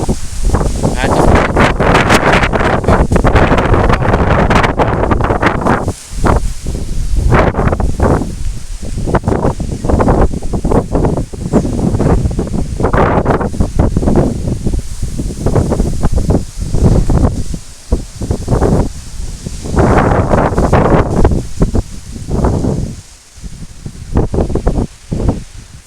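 Storm gusts at about 90 km/h roar through rustling leaves in a steady, loud outdoor wash, easing briefly and surging again in waves, with the wind buffeting the microphone.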